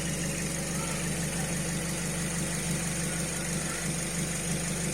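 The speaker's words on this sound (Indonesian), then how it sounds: "Suara mesin suzuki swift gt 2 manual tahun 2008" A 2008 Suzuki Swift GT2 with a manual gearbox idles at a steady, even rumble, heard close and continuous with no voices.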